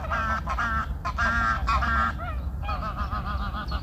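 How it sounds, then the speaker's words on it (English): A flock of geese honking loudly and continuously, many overlapping nasal calls close by, with no talking. "Oh, there's some more geese."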